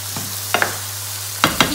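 Bell peppers sizzle in 75 g of butter in a pan, a steady close hiss of frying with a few brief stirring scrapes, and no talking.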